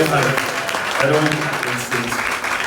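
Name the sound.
applause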